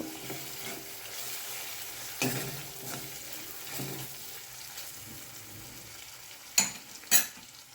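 Spices are stirred together in a cooking pot for a green pulao, a soft continuous scraping and sizzle close by, punctuated by two sharp clinks of a spoon against the pot near the end.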